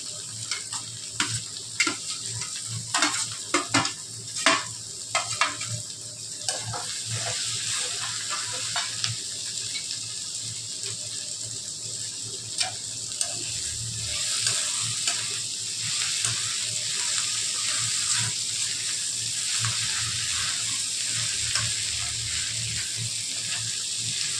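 Okra cooking with coriander in a pan over a low gas flame, giving a steady soft sizzle with occasional stirring clicks and scrapes near the start, with no talking.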